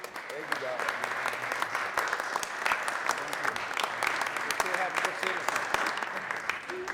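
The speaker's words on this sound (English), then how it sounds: "Let's give him another round of applause." Audience applause at a municipal council meeting in Newark, a steady wash of clapping lasting several seconds, moderately loud and fairly close, with murmuring voices under it.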